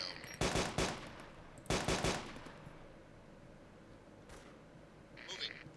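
Automatic gunfire in the military shooter game Arma II: two loud bursts of rapid shots early on, then a quieter lone crack and a faint distant burst near the end, with voices talking over it.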